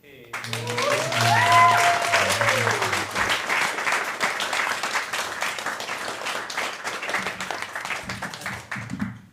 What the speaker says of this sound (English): please give a big round of applause for Ayan.